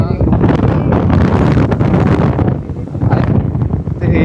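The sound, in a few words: gentle breeze wind blowing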